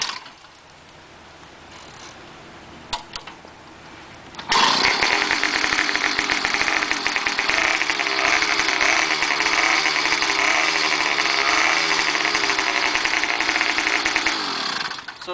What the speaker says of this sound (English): So yeah, you can actually kickstart this unit.